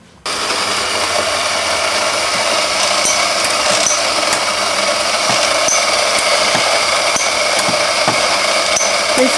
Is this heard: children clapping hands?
no